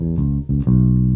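Electric bass guitar plays the opening two beats of a riff, a few loud, sustained low notes with a short break, alone with no talking.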